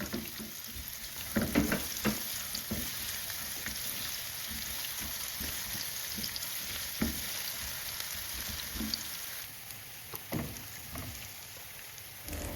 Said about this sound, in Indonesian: Jika sudah panas minyak sayurnya, bisa masukkan irisan bawang putih dan bawang merah, kita tumis sampai layu.